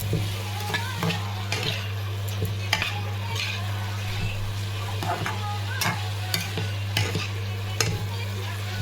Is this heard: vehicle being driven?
no